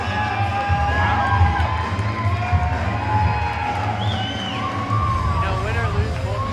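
A mixed martial arts event crowd cheering and shouting between rounds for the fighters Scott Macdonald and Adam Lacasse, a steady roar of many voices with whoops rising over it, some of them distant.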